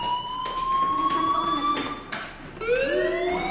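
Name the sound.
fire alarm ringing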